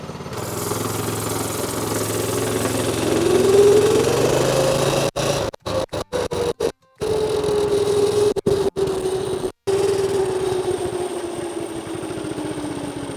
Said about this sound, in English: so the motor warms up, and once the motor warms up, then we can go ahead and turn the choke off